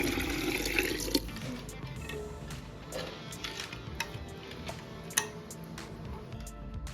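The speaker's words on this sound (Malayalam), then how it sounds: "ഇനി അടുത്ത് തിളപ്പിച്ചാക്കിയ വെള്ളം ഒഴിക്കുക ഇതിലോട്ട്" Boiled water is poured into a homemade grape wine mixture, a continuous splashing trickle broken by a few small clinks and ticks, close and moderate in volume, with no voices.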